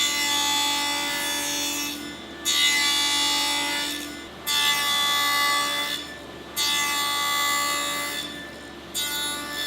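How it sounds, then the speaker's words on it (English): A table saw with a miter gauge cuts wooden sides, top and bottom pieces to length for a chime cover: a steady motor whine broken by four evenly spaced cutting passes about two seconds apart, with no speech. "Using my miter gauge at the table saw, I'm going to cut the sides and the top and bottom to length"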